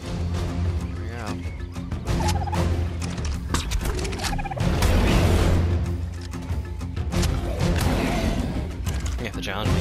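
A tickle chicken creature in a video game lets out repeated gobbling, warbling calls over layered game sounds such as thumps and creaks, loud and continuous throughout, with a person talking at times.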